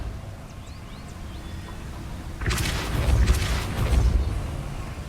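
A Depulso spell cast in Hogwarts Legacy: a sudden whooshing blast bursts in midway, followed by a rumbling, surging roar that swells and lingers against a quiet game backdrop.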